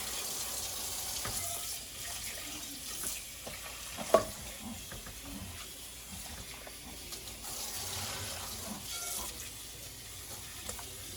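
A tap runs steadily at a kitchen sink while dishes are scrubbed with silicone scrubbing gloves, a continuous hiss of water with small clinks and one sharp knock partway through, close by and without talk.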